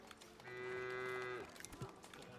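Cattle in the video game Foundation let out one clear, drawn-out moo in the middle of the clip, moderately loud over quiet in-game ambience, followed by a few faint thumps.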